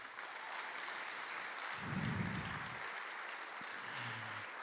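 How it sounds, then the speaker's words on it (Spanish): Church congregation applauding during a Spanish-language service, a steady broadband clapping wash filling the whole stretch with a louder swell in the middle, close and sustained with no voices over it. "¿Por qué usted no le da un aplauso al Señor?"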